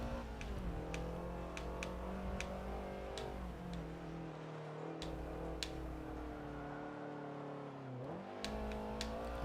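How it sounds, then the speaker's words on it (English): Racing video game race car engine revving high and dropping through heel-toe downshifts, with sharp blips between gears and steady loud engine tone throughout, no talking. "You guys hear that heel toe downshifting right there that the computer is doing for me?"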